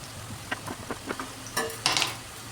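Onions and curry leaves sautéing in a pan for a potato masala, with quiet sizzling and several short stirring scrapes and clinks of a spatula, growing a bit louder toward the end.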